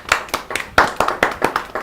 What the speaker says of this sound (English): Let's give a big hand clap to Team Diamond.